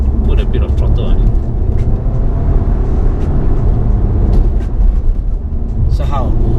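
A 2017 Volkswagen Passat B8 accelerating through a fast sweeping corner, a steady loud engine and road drone heard from inside the cabin under continuous close talking.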